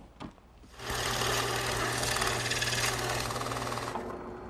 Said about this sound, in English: Now I'm drilling some 1 3/8 diameter holes with a Forstner bit to hold the checkers.